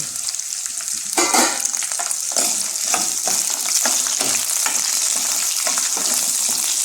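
Green chillies, dried red chillies and tamarind pieces frying in hot oil for a ridge gourd peel chutney, a loud continuous crackling sizzle with repeated stirring scrapes throughout.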